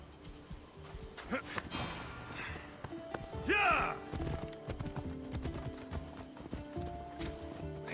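Horse hooves clip-clop while riding in Assassin's Creed Odyssey, a steady trotting rhythm up close. Game music, ambience and a brief whinny sit underneath, and characters talk over it.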